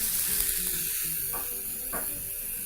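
Paprika and vinegar hit hot oil in a pan, giving a steady bright sizzle with a couple of short crackling bursts as ingredients land, heard alone and close.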